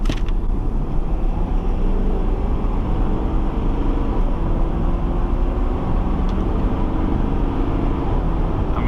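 A Ford F350 Powerstroke heavy-duty diesel pickup with 100k miles, heard from inside the cab, accelerates hard from about 40 mph with a loud, steady engine roar and road rumble throughout.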